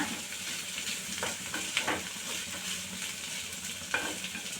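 Sliced capsicum and grated coconut are stir-fried in a pan with a soft, steady sizzle and repeated spatula scrapes. The sound is fairly quiet and close, with no voices.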